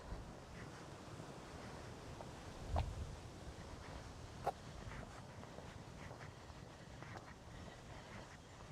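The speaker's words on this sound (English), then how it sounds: "Give you an idea of how blustery it is." Strong, blustery outdoor wind buffeting the microphone in a low, continuous rumble, with a couple of brief sharp knocks and a faint rushing hiss behind it.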